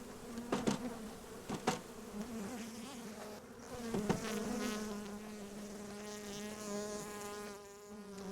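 Dense honeybee buzzing swells as a package of bees is shaken down into a hive, a steady droning hum broken by several sharp thumps from the shaking, fairly close and with no voices.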